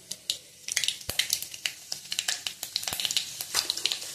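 Mustard seeds and cumin sizzle in hot oil for a capsicum stir-fry, crackling in rapid, irregular pops and sharp snaps over a soft hiss, growing busier as it goes, with no one speaking.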